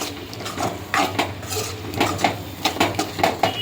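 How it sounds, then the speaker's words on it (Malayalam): A utensil mixes dal with coriander and curry leaves in a pot, making repeated clinks and scrapes against the metal in an irregular rhythm, close up and with no talking. "അത് നല്ലോണം ഒന്ന് മിക്സാക്കി എടുക്കാം"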